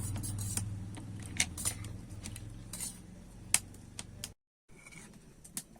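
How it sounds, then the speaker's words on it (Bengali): Spoon stirring a vinegar and water mixture in a bowl, with small light clinks and taps over a low steady background hum, close by. A brief dropout of sound comes near the end. "এটা ভালো করে একটু মিশিয়ে নেব"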